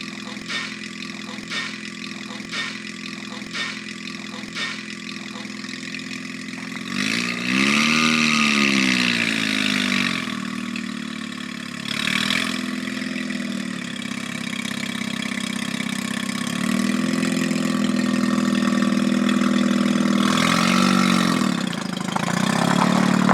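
A Mazda RX7 drift car's rotary engine idles with a choppy, pulsing rhythm, then revs loudly several times in rising and falling sweeps, ending in a sustained high rev.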